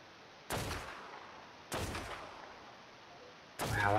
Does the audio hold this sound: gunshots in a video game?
yes